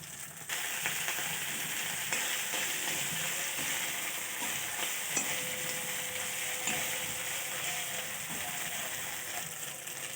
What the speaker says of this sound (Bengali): জিরে বাটা দিয়ে দেব, আদা বাটা দিয়ে দেব। মশলাটা ভালোভাবে কষিয়ে নেব।